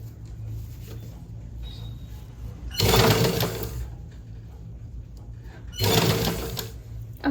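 A sewing machine stitches a sleeve onto a blouse in two loud bursts of a few seconds each, separated by quieter pauses with a low steady hum.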